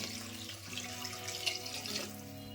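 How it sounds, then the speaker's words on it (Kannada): Water runs in a steady stream into a pot of Andhra-style spicy dal, splashing and gurgling close by with a bright hiss, continuous for a couple of seconds with no voices. "ಇವಾಗ ಇದಕ್ಕೆ ನೀರು ಹಾಕೊತಾ ಇದ್ದೀನಿ."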